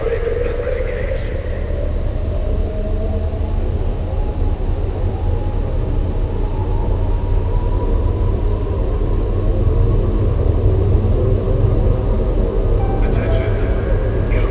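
Deep, loud, continuous rumble of a Fortune class fleet carrier's drive spooling up before a jump in a video game, a steady heavy drone that swells slightly toward the end.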